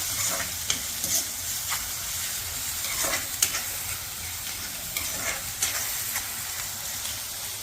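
Food being sautéed in a pan with salt and turmeric, a continuous soft hiss of frying with intermittent light scraping and tapping of the spatula, close and steady without talk.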